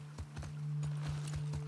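Steady clip-clop of horse hooves at an even walking pace in The Last of Us Part II, about seven strikes over a constant low hum and faint background music.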